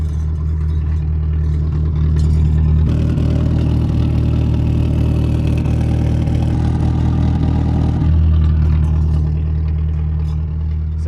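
A Ford Pinto engine runs through a salvaged muffler, a steady low rumbling idle that swells into a rougher, busier rev in the middle before settling back to idle, close and loud.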